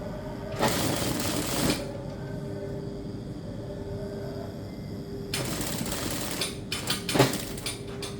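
A sewing machine stitches a hat in two loud bursts of rapid mechanical whirring, separated by a quieter stretch of steady motor hum, with a few short clicks and knocks near the end.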